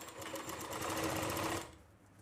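Close, continuous whirring of a sewing machine stitching a Rajputi suit blouse (kanchli), running for under two seconds before stopping.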